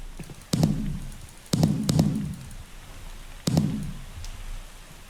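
Rain falls in Minecraft after a magic spell is cast, a steady soft hiss broken by three sharp ticking impacts, each trailing off into a low rumbling wash.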